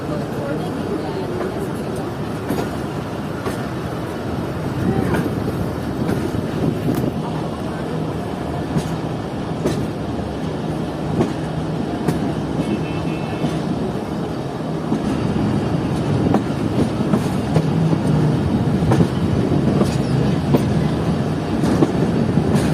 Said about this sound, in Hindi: और ट्रेन अब भावलपुर रेलवे स्टेशन से निकलना शुरू हो चुकी है